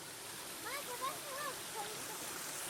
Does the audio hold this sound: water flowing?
yes